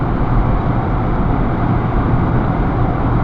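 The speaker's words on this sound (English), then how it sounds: "A lot of noise from the engine when you accelerate." A 2009 Range Rover diesel's engine drones loudly and steadily from inside the cabin as the car accelerates on the road, a dense low rumble with no voices.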